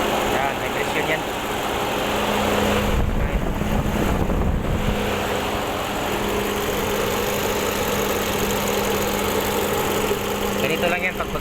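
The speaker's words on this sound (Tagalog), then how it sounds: "I-troubleshoot natin kung saan yung misfire, kasi misfire yung engine nito." A car engine with a cylinder misfire idles roughly and vibrates, a continuous near rumble with uneven pulsing, while someone talks over it.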